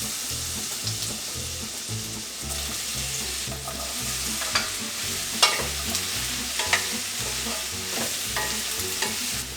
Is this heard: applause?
no